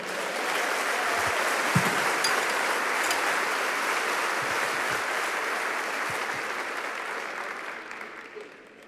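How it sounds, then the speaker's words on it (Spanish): Steady, full applause from a church congregation, a broad wash of many hands clapping for several seconds before tapering off slightly at the end. "¿Cuánto da un aplauso al Señor?"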